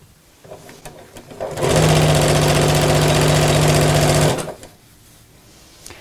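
A domestic sewing machine runs steadily for about three seconds as it stitches fabric along a pressed crease, with a loud even motor whir and a clear start and stop between quieter handling sounds.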